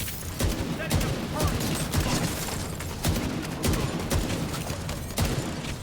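Bighorn Exotic AR rifle fired in a video game, bursts of rapid gunfire with sharp repeated shots and rumbling booms, fairly close over a busy game background.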